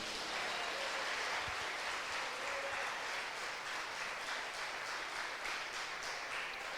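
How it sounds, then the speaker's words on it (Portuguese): A church congregation applauds for Jesus during a Brazilian Portuguese worship service, a steady wash of many hands clapping that holds evenly for several seconds at moderate loudness. "Palmas para Jesus."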